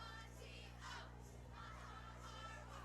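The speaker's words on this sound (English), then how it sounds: "what does that West Branch crowd sideline sound like now?" A high school football crowd on the West Branch sideline during a senior-night game, heard as a faint, distant wash of shouting and cheering voices with a steady low hum underneath.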